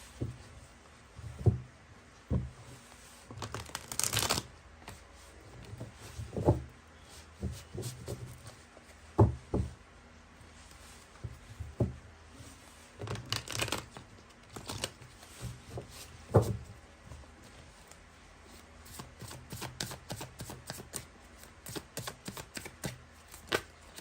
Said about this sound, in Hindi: तीसरे डेक से भी मैं कुछ कार्ड्स ले रही हूँ।